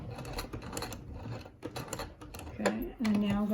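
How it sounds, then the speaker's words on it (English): A sewing machine runs stitches over elastic on a fabric surgical mask, a steady mechanical whir and clatter of moderate loudness, with a short tonal whine near the end. "now I'm going to sew over top of the elastic and then lock my stitches"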